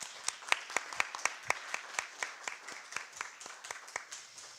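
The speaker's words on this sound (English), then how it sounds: "So I'd like you to please give a round of applause for our first session." A symposium audience claps for a finished session, heard here as distinct, evenly spaced sharp claps in a steady rhythm, fairly close and clear, loosening slightly toward the end.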